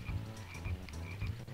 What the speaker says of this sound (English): So you said it's a frog.